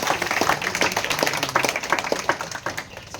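A church congregation applauds with a flurry of many hands clapping, fairly close, tapering off toward the end.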